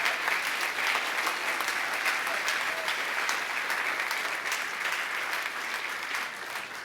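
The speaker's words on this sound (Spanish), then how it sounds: "Dele fuerte el aplauso al Señor." A church congregation applauds the Lord loudly, dense sustained clapping from a large crowd that fills the room and fades slightly toward the end.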